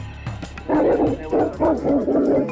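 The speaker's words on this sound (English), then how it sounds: "These are Mastiffs. They're sniffing me." Mastiffs let out deep, booming barks in a quick series of four or five, close by and loud.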